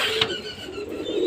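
Pigeons in a loft coo with a single low, throaty call from nearby, backed by higher bird chirps and a faint flutter in the background.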